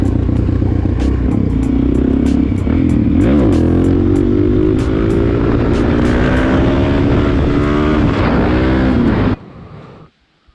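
A Suzuki DRZ400SM supermoto engine revs loud and close as it rides, its pitch climbing steadily with rattling mechanical noise, then cutting off abruptly at the end.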